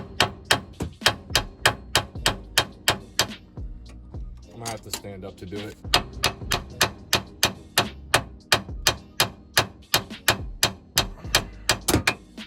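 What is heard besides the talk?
hammering on tie rod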